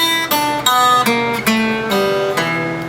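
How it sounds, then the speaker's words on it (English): An electric guitar plays a blues scale in single notes, each plucked clearly and ringing briefly, stepping through at a steady, moderate pace. "a regular blues scale goes like this"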